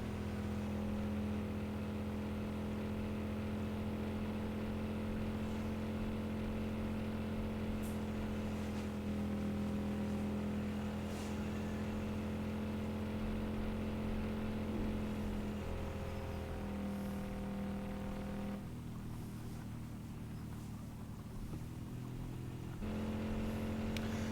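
Car engine in Car For Sale Simulator, droning steadily and close as the vehicle is driven, with pitch shifts hinting at gear changes and a brief dip in engine tone near the end.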